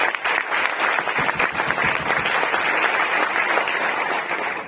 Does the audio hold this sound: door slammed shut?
no